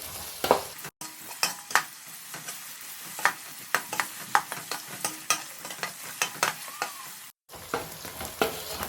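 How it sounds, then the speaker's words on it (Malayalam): Shallots and beef masala frying in a pan for a beef dish, a continuous close sizzle broken by regular sharp scrapes and clacks of a spoon stirring, with two brief dropouts; nobody speaks. "നേരത്തെ പറഞ്ഞതുപോലെ നല്ലോണം ചെറിയ ഉള്ളി നല്ലോണം വഴന്ന് മൂത്ത് കിട്ടണം"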